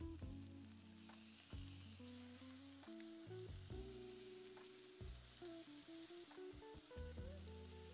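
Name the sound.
chicken fillets sizzling in a hot pan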